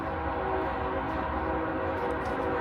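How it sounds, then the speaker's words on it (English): A steady, continuous rumble of a train rolling past at a distance, droning evenly without pause. "You hear the wonderful train"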